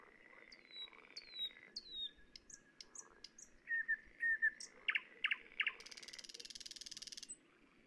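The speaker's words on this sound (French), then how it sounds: "Le rossignol." Nightingale song from the game Keep Talking and Nobody Explodes, a sequence of bright whistles, rising slides, sharp chirps and a fast trilled burst near the end, clear and isolated against near silence.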